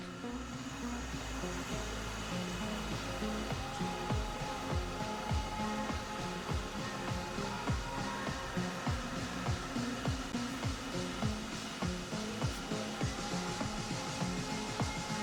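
A milling machine with a digital readout runs continuously at an even, moderate level, a steady mechanical drone broken by regular rapid ticking impacts throughout.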